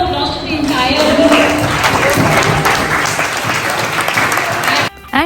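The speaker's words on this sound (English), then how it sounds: "So a big round of applause to the entire team." Loud, sustained applause from an audience celebrating an entire team, dense clapping running steadily for about five seconds before cutting off abruptly near the end.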